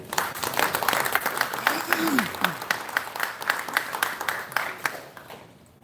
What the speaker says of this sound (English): Big round of applause for Joe Markowski